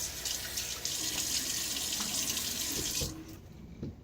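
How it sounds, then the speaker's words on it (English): Tap water runs into a sink and is splashed onto a face before a shave with a Gillette razor, a close hissing flow for about three seconds, then trailing drips and small splashes. "Throw a little water on my face."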